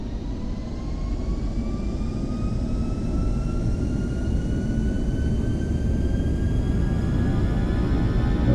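A LevelUp 737NG airliner in a flight simulator game makes its takeoff roll on runway 10, with a loud continuous engine roar and a thin whine that climbs steadily in pitch throughout.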